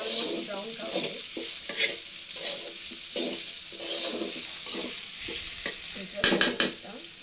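Sliced okra fries and browns in a pan for a spicy bendakaya fry, giving a lively sizzle broken by repeated scraping and stirring strokes of a spoon, close and moderately loud, with no talking.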